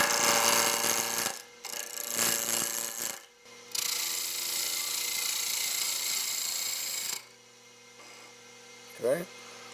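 Wood lathe turning a glue block round, a steady close scraping and rasping of the tool on the spinning wood in long bursts separated by short pauses, with a low motor hum beneath.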